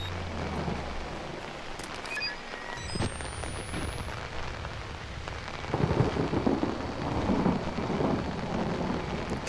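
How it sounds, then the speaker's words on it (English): Rumbling thunder with steady rain in the Outlast horror game, a low roll building over several seconds and swelling louder near the end beneath continuous patter, with no voices. "Thunder?"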